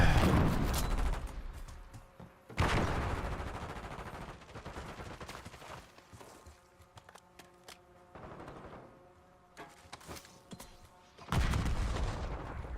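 Grenades explode in an online shooter game, heavy booming blasts opening the clip and striking again near the end, with sparse gunfire and game noise in the quieter stretch between.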